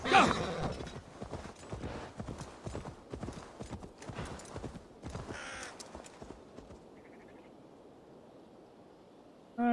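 Horse hooves clip-clop steadily across open ground in Assassin's Creed Valhalla, set in England, with crows cawing nearby before the hoofbeats fade.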